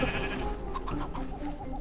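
A goat in the Minecraft Dungeons video game lets out a string of short, wavering bleats at moderate volume over a steady game-music backdrop.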